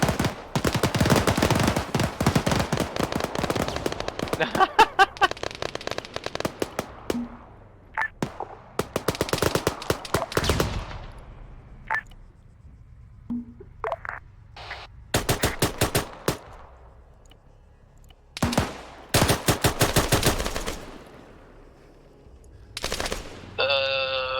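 Bursts of automatic gunfire in a military shooter game set during Fallujah operations, dense rattling volleys early on giving way to scattered sharp bursts separated by quieter gaps, loud and close.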